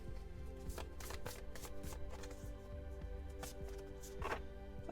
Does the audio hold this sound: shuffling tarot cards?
yes